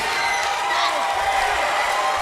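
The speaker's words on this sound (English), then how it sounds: "the crowd is loving it here at Eagle View Christian Academy" Crowd cheering and whooping at a school wrestling show at Eagle View Christian Academy, a dense roar of voices with an announcer talking over it.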